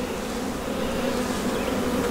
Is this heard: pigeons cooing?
no